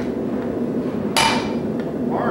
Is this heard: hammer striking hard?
yes